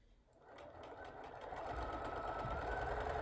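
A sewing machine stitches quilt fabric layers along curves, its faint whir starting low and speeding up into a quick, steady run of stitches.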